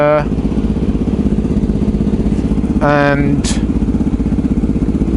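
A Ducati motorcycle engine runs steadily with a throbbing, even idle-like rumble throughout, close and loud, with a short voice-like sound partway through.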